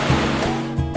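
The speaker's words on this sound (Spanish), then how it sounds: "Otro bello lugar para admirar y divertirse es la cascada de Nambillo." Nambillo waterfall in Mindo, Ecuador, pours as a steady, loud rushing roar of falling water that fills the space throughout.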